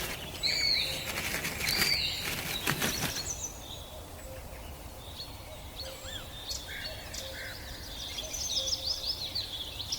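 Falcon wings beating in flight, a burst of rapid flapping in the first seconds, with high chirping bird calls scattered over a quiet outdoor background.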